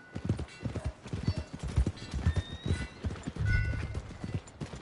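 In a video game, a horse's hooves clip-clop in a quick, uneven rhythm close by, with a brief whinny and faint tonal game sounds behind it. No one speaks.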